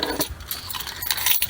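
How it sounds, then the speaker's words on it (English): A set of keys jangles and clinks in a few quick metallic shakes, close and fairly loud, while a Chevy Silverado window sweep and gasket are being replaced. "Oh, there are my keys."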